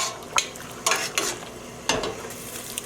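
Yarn being stirred in a dye pot: a few separate scraping, sloshing strokes spaced unevenly, close and moderately loud, with quiet gaps between them.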